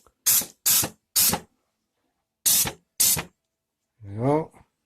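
Five short, sharp hisses from a spray can laying down a coat of paint, each about a third of a second and close by, with a brief spoken phrase at the end.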